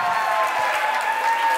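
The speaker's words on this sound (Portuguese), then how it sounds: "Uma salva de palmas pro casal!" An audience applauds a couple in a steady, even wash of clapping. The clapping is fairly loud and lasts the whole short stretch, with a faint tonal hum underneath.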